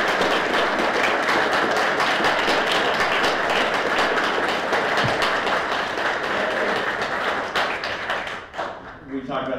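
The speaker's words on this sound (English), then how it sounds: "now is the chance you get to applaud these gentlemen" An audience at a mayoral candidate forum applauds, sustained dense clapping filling the room for about eight seconds before fading out.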